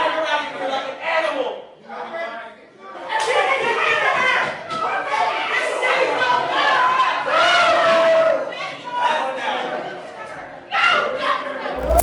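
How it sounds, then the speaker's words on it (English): A courtroom gallery crowd shouts "no justice" in loud, overlapping bursts, an angry uproar of many voices rising and falling for about twelve seconds. "shouts of "no justice" are heard from the gallery"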